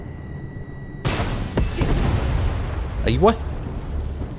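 A loud explosion booms in the Far Cry 6 video game, followed by crackling debris and a brief rising whine, with someone speaking over it.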